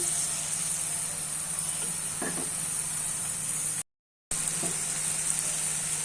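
Spice paste for an egg curry sautés in hot oil, making a dense, continuous close sizzle with a few soft knocks, broken once by a brief silent gap before the frying resumes.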